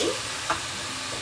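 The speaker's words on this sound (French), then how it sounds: "Vous mettez tous vos légumes et vous laissez bien ça sauter." Mixed vegetables including broccoli and red onion sautéing in a frying pan, a steady close sizzle with a brief stir or clink midway, no voices.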